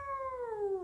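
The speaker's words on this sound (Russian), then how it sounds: "Вот такая вот кошечка." A female cat gives one short, close meow that slides downward in pitch, heard clearly and alone.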